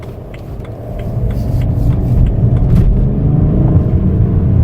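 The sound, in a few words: BMW 335d car accelerating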